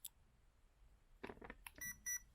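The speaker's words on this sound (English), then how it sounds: "the motor beeps 2 times to accept the full throttle endpoint" Two short electronic beeps from a motor confirm a Hobbywing 1080 ESC's full throttle endpoint during calibration, close by near the end, preceded by faint clicks and handling noise in an otherwise quiet space.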